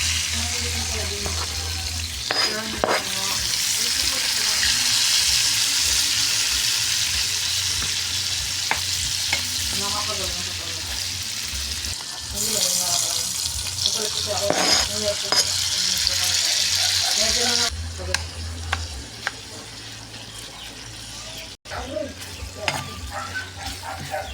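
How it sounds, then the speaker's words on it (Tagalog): Ingredients for mixed-vegetable monggo are sautéed in a pan, giving a steady loud sizzle with occasional stirring scrapes; the frying continues for most of the stretch and eases near the end, with faint talk in the background. "Ayan, gigisa natin guys. Dito natin igagisa rin yung ano,"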